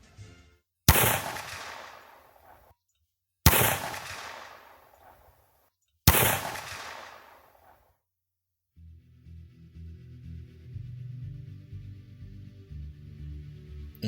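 Three sharp, loud gunshots ring out in the JFK assassination in Dallas, evenly spaced about three seconds apart, each cracking with a decaying echo, followed by a low rumbling background.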